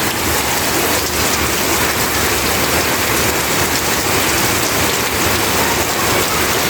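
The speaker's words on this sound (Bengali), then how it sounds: "এই যে বৃষ্টি ছাদে বইরে গেছে একবারে পানি ছাদে" Heavy rain pours onto a flat rooftop, a loud, constant roaring hiss with no pauses, filling the whole span without any voices.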